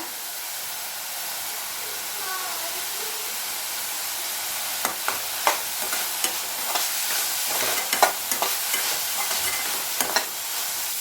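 Green chilies and curry leaves sauté in a pan with a soft steady hiss. Sharper crackles and pops come in about halfway through, with no talking.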